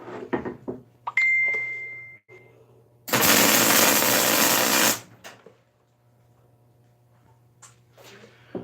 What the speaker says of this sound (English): I'm going to go over it a couple times, build up the weld.